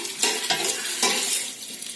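Onion and other couscous sauce ingredients fry gently in olive oil, giving a soft continuous sizzle broken by a few close stirring scrapes and utensil taps, with no one speaking.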